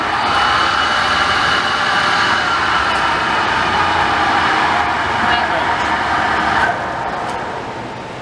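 A Clausing 20-inch variable-speed drill press with a 900/1800 RPM motor runs at its faster range, giving a steady, loud mechanical whir and hum throughout that eases slightly near the end, with someone talking over it.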